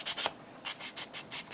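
Sandpaper of 600 grit rubbing over a plastic Gundam model kit part, a series of short, soft, even scraping strokes in a steady back-and-forth rhythm, close and quiet with no voices.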